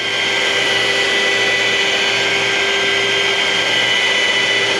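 A Milwaukee power mixer runs at a loud, constant whine, churning a mix of concrete or thinset without a break from start to finish.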